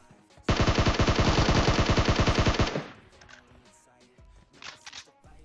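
Automatic gunfire in the mobile battle royale game PUBG Mobile: a loud, rapid burst of evenly spaced shots lasting about two seconds, then quieter game ambience with faint clicks.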